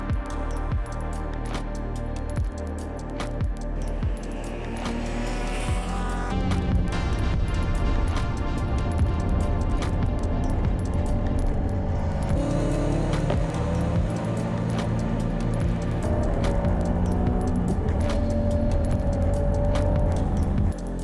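Honda NSX driven hard on a race track during a Japanese car festival, heard from inside the passenger seat: continuous loud engine roar rising and falling with gear changes, steady and close throughout.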